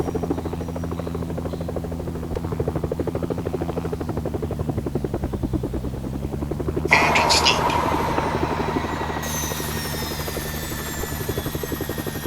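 Rotor of a helicopter in the game Helicopter Simulator 2014, a continuous close throbbing drone whose pitch dips briefly, joined partway through by a bright hissing, whining layer that stays to the end.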